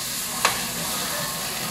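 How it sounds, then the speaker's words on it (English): Broccoli fries in a pan with a steady, loud sizzle while a single quick stir scrapes through it once, the frying continuing strongly throughout. "I'm trying to stir this broccoli up on me."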